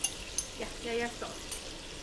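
Minced garlic browns in a pan with a faint, soft sizzle and a few light clinks from stirring, heard close and quiet.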